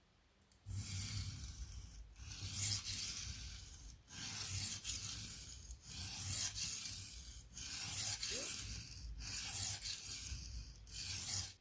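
Knife edge ground on a coarse, aggressive sharpening stone, a Benchmade OTF blade, in repeated rasping strokes, about six passes with brief pauses between, close and steady with no talking.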